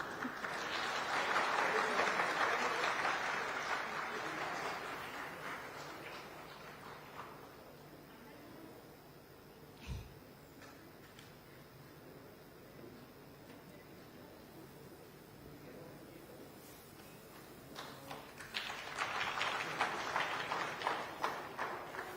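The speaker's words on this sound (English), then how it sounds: "That applause can be louder." A crowd claps for West Bengal Chief Minister Mamata Banerjee at India Today Conclave East 2022. The dense applause is loud at first, fades to a low murmur with some talk, then swells back near the end.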